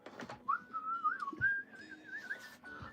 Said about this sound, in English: I shouldn't whistle it.